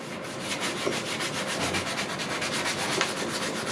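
Hand sanding with 240 grit paper on painted car bodywork, a steady continuous scratchy rubbing with faint repeated strokes, close and alone.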